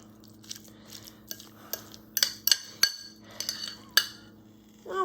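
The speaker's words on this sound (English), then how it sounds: "I'm just going to mix this all up good." Spoon clinking and scraping against a bowl while crab rangoon filling is stirred with soy sauce, a string of irregular close taps and clacks over a faint steady room hum.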